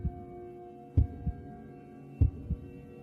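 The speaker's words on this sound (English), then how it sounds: "my heartbeat so loud I could hear it in my ears" A heartbeat sound effect in a dark, tense house, with two clear lub-dub double thumps about a second apart over a low steady hum, loud and close with no voices.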